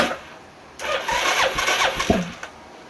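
An Arctic Cat 500 4x4 engine, previously blown up, is cranked over with its muffler fitted, catching after a short pause and running in a brief uneven burst before cutting off.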